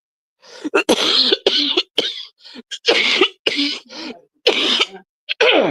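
A fit of harsh, repeated coughing from one person, close up, in ragged bursts with brief gasping pauses between them.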